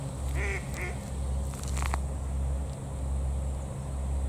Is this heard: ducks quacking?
yes